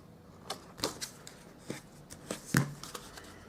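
Paper being folded and creased by hand while assembling a small gift box, a scatter of close, quiet crinkles and sharp taps spaced irregularly, with no voices.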